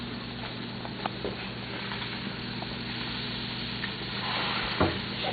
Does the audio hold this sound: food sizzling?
yes